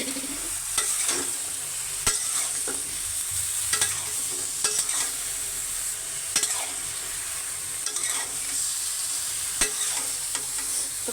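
Sliced ridge gourd fries in hot oil in a pan, a steady loud sizzle with repeated sharp clicks and scrapes of a spatula stirring, close by and without any voices.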